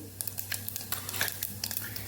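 Soft crackling sizzle of cumin and mustard seeds in hot oil, with a low steady hum beneath and scattered small pops throughout.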